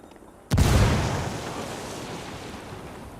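A grenade explosion in the video game Ghost Recon Wildlands: one sudden loud blast followed by a long fading rumble, heard alone without talk.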